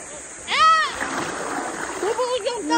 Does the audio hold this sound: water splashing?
yes